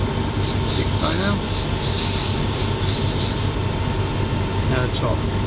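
Aerosol spray paint hissing steadily onto a 1/35 scale Meng Kubelwagen model, a loud close continuous spray lasting several seconds, with a brief pause near the end before spraying resumes.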